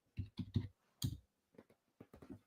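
Typing on a computer keyboard at a day-trading desk, short close bursts of clicking keys separated by brief pauses, quiet and without speech.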